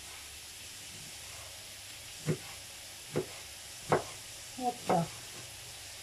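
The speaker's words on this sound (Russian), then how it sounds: "Сейчас чуть-чуть поджарятся овощи" Vegetables for borscht frying in a pan, a faint steady sizzle broken by five short stirring scrapes, with a brief spoken word.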